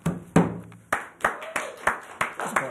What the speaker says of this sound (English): It's not worthy of the applause, but it's something.